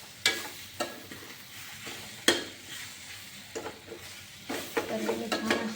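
Pasta is stirred in a pan over a medium gas flame, with repeated scrapes and clinks of a spoon against the metal over a low sizzle, close up, and no talking.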